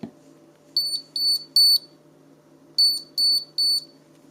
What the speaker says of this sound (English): You can hear it. It's beeping.